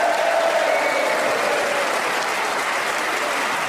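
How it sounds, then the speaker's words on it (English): A studio audience at a panel game show applauding in a dense, even wash of clapping that holds steady throughout the short stretch, loud and close with no voices on top. "Another round of applause for them."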